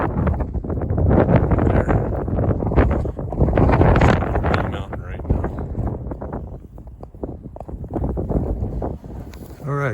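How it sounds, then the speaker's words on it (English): Strong wind on a mountain ridge along the Appalachian Trail near Chestnut Knob, buffeting the microphone in loud, uneven gusts that swell and ease, with a person talking through it. "It's windy as heck out here."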